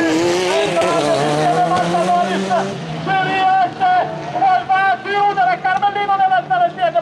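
Rallycross supercars racing on the Maggiora track, several engines roaring and revving with gear changes and pitch swings, loud and near, with a commentator talking over them.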